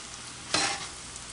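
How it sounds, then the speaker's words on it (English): Spicy shrimp stirred in a hot pan gives a short scrape and swish over a steady sizzle of frying, close and clear, with no voices. "I'm going to keep stirring this up"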